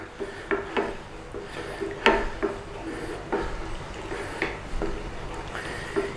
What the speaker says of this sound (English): So give that a little stir in there.